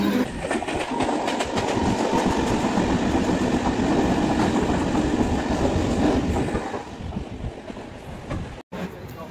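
A Mumbai suburban local train on the Kurla–Panvel line runs at speed toward Kharghar, with a loud, continuous rumble and rhythmic clatter of wheels on rails heard from inside the carriage, easing slightly near the end.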